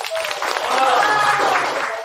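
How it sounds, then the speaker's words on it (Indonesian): A film crew claps at the end of a shoot, a dense burst of applause swelling over about two seconds with no clear speech on top. "Tepuk tangan kita untuk Arif Wijaya, karakter fiksi ini tapi semangat yang nyata."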